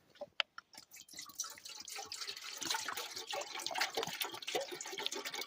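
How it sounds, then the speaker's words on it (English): Tap water runs into a pot being filled for boiling during household chores; a few sharp drips open before a steady, faint splashing stream takes over, with muffled handling noise. "Time to start boiling water again."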